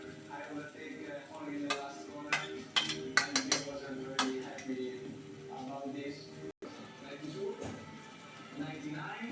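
Fried soybean and grated carrot are stirred in a pan, giving sharp scattered scrapes and clicks of utensil on metal close by, under a voice talking.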